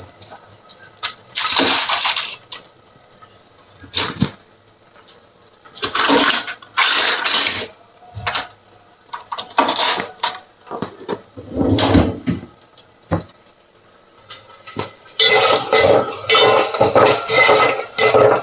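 Onions, green chillies and curry leaves get stirred in a metal pan, a ladle scraping and clanking against the pan in repeated bursts separated by short pauses.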